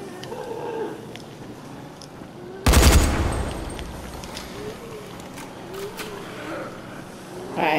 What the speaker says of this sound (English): I'm just gonna waste bullets.